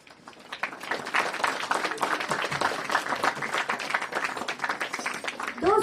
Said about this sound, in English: Let's appreciate them with a hearty round of applause.